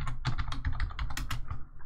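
Rapid keystrokes on a computer keyboard during a modded Minecraft session, a steady run of close, crisp clicks with no talking.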